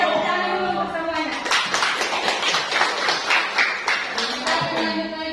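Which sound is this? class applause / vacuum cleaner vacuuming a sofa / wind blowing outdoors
class applause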